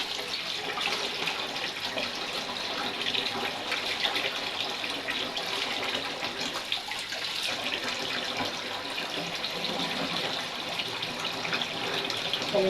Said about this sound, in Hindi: पानी मैंने चला दिया